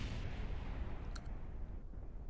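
A rocket crashes and destroys the launch pad in the video game Kerbal Space Program, giving a low, rumbling burst of explosion noise that stays fairly quiet and steady with no speech.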